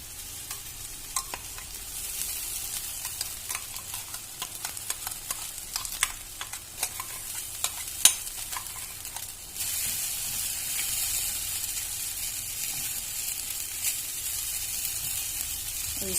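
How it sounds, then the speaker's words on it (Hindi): Masala with ground poppy seeds and cashews fries in ghee and is stirred, giving a steady hiss of sizzling broken by scraping clicks of the spoon, the sizzle growing louder and brighter partway through. "और इसको अच्छे से चलाते हुए भून लेते हैं।"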